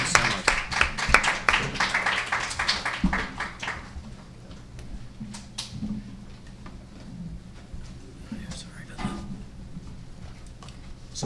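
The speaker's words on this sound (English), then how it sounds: "let's give the panel a round of applause" An audience applauds a panel at a live constitutional law event, a burst of clapping for about four seconds that quickly dies away into quiet room noise with scattered small sounds.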